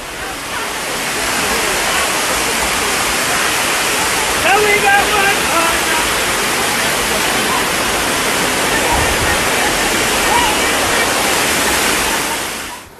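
Dunn's River Falls, a waterfall in Ocho Rios, Jamaica, roars as a steady, loud broadband rush of falling water throughout, with brief faint voices nearby.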